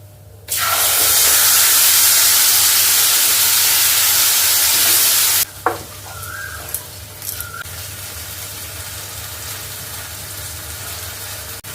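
A spice paste hits a hot pan with a loud, sudden burst of sizzling hiss lasting several seconds, then settles into quieter frying with scattered scraping taps of stirring.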